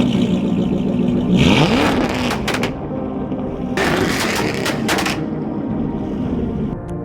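A tuned, heavily modified Jaguar SVR engine revs up hard in two loud, close bursts with crackling pops, then drops back to a rumbling idle, with no talking.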